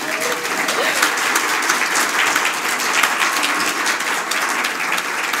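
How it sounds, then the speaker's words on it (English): At a conference gathering, an audience gives a sustained round of applause, dense clapping from many hands that holds steady for several seconds. "You can give them a round of applause."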